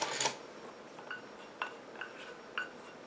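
A utensil stirs a caffeine anti-aging eye contour cream emulsion in a container while the water phase is added, producing faint, evenly spaced clinks and taps against the side.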